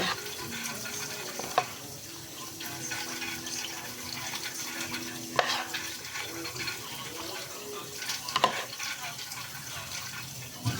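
Kitchen tap running while salad is washed in a sink, a steady close water rush with clatters and splashes as leaves are handled.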